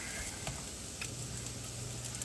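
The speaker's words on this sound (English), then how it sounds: "You hear these sizzling?" Potatoes fry in a pan with a steady sizzle, soft crackles and pops, close by and continuous, no voices.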